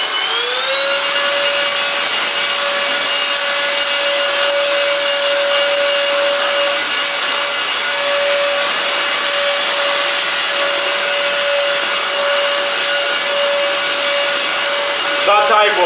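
A Silvercrest SHAZ 22.2 F7 cordless cyclone vacuum cleaner runs in turbo mode, a loud steady whine with a constant high tone that holds throughout, then shifts briefly at the very end.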